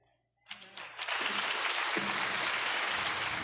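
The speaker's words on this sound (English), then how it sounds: "Let's give them another round of applause." Applause from an audience at a funeral service, starting after a brief near-silence and swelling into steady, dense clapping that holds for several seconds.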